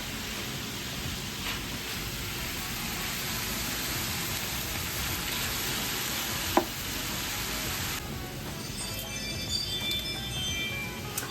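Pork, peppers and chopped Roma tomatoes cook in a pan with a steady, close, broadband sizzle throughout, with a single small clink partway through.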